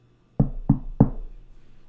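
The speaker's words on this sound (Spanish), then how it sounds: "Fue interrumpida por un suave golpe en la puerta." A soft knock on a door: three distinct raps in an even rhythm, close and clear, fading into a quiet room afterward.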